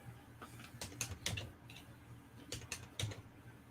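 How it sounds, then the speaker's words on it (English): Mechanical keyboard keys clack in quick irregular bursts of typing, close and fairly quiet, with short pauses between flurries in an otherwise calm room. "Just typing. It's a mechanical keyboard."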